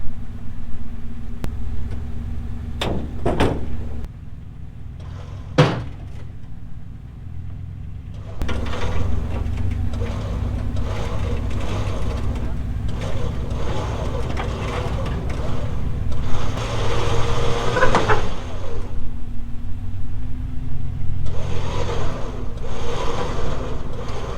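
A truck engine rumbles as it pulls a non-running, brakeless 1975 square body dump truck, a low steady drone that grows louder partway through, with a few sharp clanks early on.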